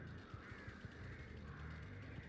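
Crows cawing in the Dead by Daylight horror game, repeated short caws over a steady ambient drone and low rumble, fairly quiet and continuous.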